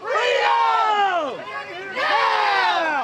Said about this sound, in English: The crowd started showing up 2 hours before this rally was supposed to start.